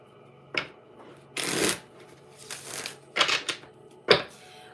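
A deck of oracle cards is shuffled by hand in several short, crisp riffling bursts separated by pauses, close and fairly quiet, with no talking over it.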